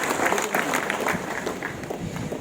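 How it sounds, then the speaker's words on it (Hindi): Audience applause during a Hindi public speech honoring Kalyan Singh: dense, sustained clapping from a crowd, steady and fairly loud throughout, with no speech over it. "कल्याण सिंह जी के अभिवादन में, उनके सम्मान में, उनकी स्मृति में एक बार तालियां बजा दें"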